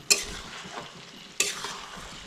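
Chicken kosha is stirred and fried without water in a pan, two sharp scrapes of the spoon over a steady, close sizzle, with no talk.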